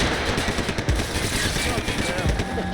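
Rapid bursts of automatic gunfire crackle in a Max Payne 3 firefight in São Paulo, played on PC. The shots come close and continuous, mixed with voices.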